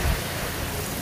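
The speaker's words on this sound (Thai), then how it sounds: "พายุอีกแล้ว" Heavy rain from a storm pours steadily at a fishing pond, a dense continuous hiss with a low rumble at the start and no voices.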